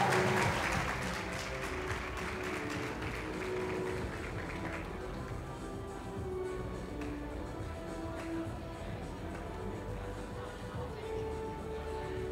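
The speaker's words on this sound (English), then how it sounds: "let's give everybody a round of applause" An audience at an award night claps in sustained, dense applause that starts loud and eases slightly, with faint crowd murmur beneath.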